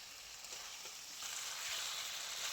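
Mixed vegetables stir-fried dry in a spiced masala, giving a steady close sizzle and hiss that grows a little louder partway through, with no one talking.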